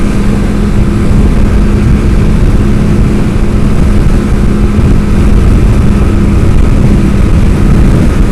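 A Suzuki GT550 two-stroke triple growls steadily while riding along a valley road, a loud, continuous engine drone heard close from the rider's position with wind roar underneath.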